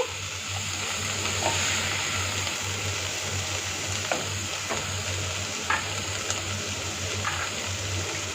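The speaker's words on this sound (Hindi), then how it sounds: "इसको थोड़ा सा सौते करेंगे" Bell pepper sautés in a pan for a stovetop pizza topping, a steady close sizzle with occasional scraping stirs and light clinks, a low hum running underneath and no talking.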